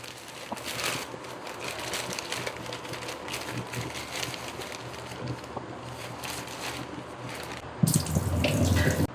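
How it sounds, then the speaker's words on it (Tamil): Raw chicken is washed under a running kitchen tap, with a steady splash of water that grows louder and fuller near the end. "இப்போ வாங்கிட்டு வந்த சிக்கனை வாஷ் பண்ணிக்கலாம் வாங்க."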